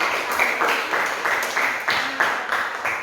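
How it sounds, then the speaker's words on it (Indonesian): Classroom applause for a student group after their presentation, a small room of students clapping in short repeated bursts, moderately close and steady throughout. "Tepuk tangan untuk kelompok."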